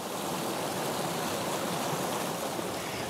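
A mountain stream flowing near a ski area, a steady broad rush of water that stays constant and fairly close, with no voices over it.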